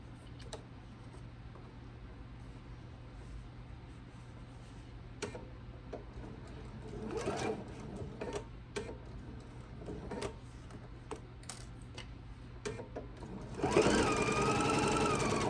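A sewing machine stitches quilt block seams at a slow, uneven pace, with separate ticking needle strokes that build into a louder continuous run near the end. The sound is close, and no talk is heard.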